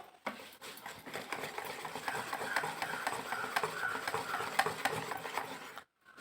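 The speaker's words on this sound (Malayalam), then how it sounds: "ഇനി നമുക്കിതിനെ ഒരു വിസ്ക് വെച്ച് നന്നായിട്ടൊന്ന് ഇളക്കി കൊടുക്കാം." A wire whisk stirring a thick homemade potato paste for soap in a bowl: a continuous, fairly quiet scraping and sloshing with rapid rhythmic ticks of the whisk against the bowl, ending abruptly.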